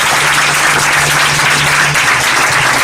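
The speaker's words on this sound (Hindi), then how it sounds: "जोरदार ताली बजाएंगे।" Loud, dense applause fills a church gathering, a sustained wash of many hands clapping together at close range with no pauses.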